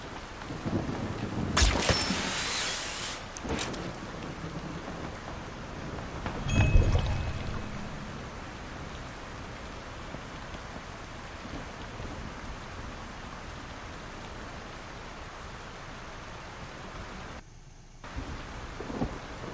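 Thunderclaps and steady rain in the video game Ring of Elysium: two loud rumbling cracks early on over a constant hiss of pouring rain, which continues alone afterward.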